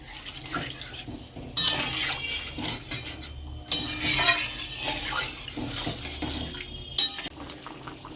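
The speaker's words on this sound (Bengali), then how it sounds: "তো এখন জল দেওয়া হচ্ছে, যত পরিমাণ ঝোল খেতে চান সেই পরিমাণে জল দেবেন।" Water is poured into a pot of egg, broccoli and potato curry in bursts of splashing and gurgling, mixed with clinks of a utensil against the pot. The sounds are close and intermittent, with no voices.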